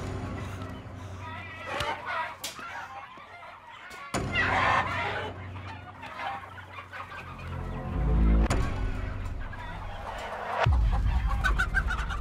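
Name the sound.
chickens clucking in a poultry shed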